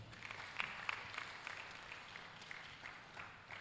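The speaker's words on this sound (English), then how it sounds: "our applause can be louder than that" An audience at a university law school book presentation claps briefly and fairly faintly, a modest spatter of applause with a few sharper individual claps standing out.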